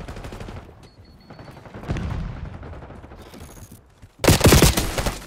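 Gunfire in the Call of Duty Black Ops video game, scattered shots and mechanical noise early on, then a loud close burst of automatic fire near the end.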